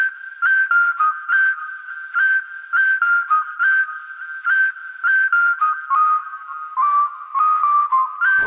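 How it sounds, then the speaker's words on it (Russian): Tuned, pitch-corrected whistled melody forming the drop of a Russian pop track, a clean bright line of short rhythmic phrases repeating steadily throughout, loud and alone. "И вот у меня целый дроп из свиста."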